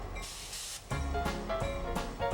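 Air brakes on a train release in a series of sharp hisses, with loud bursts of spraying air coming close together over a low mechanical rumble.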